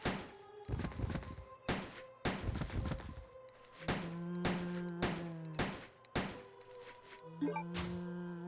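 Gunfire in the video game Resident Evil Code Veronica X, a series of sharp, distinct shots at irregular intervals with ringing, tonal decays between them, fairly faint and heard alone without talk.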